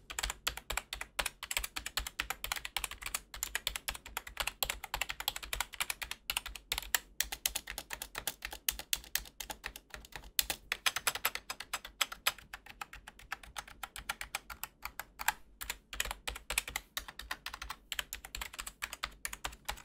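Continuous fast typing on an OKER KB-789 gaming keyboard with rubber dome switches, soft, muffled keystrokes in a dense, even patter, close and alone.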